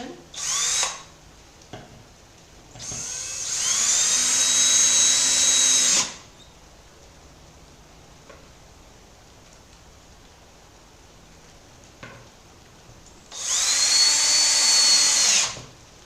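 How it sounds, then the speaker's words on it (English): A power drill drives screws into a pine mason bee nesting box in three close, loud whirring bursts: a brief one, a long one lasting about three seconds, then another of about two seconds, separated by quiet gaps. "And now I'm just going to drill them in."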